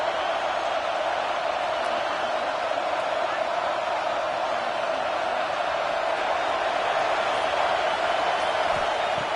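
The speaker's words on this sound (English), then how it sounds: "listen to this crowd noise. This stadium is vibrating." Stadium crowd at a college football game between Texas and LSU, a steady loud roar filling the whole stretch with no break or swell.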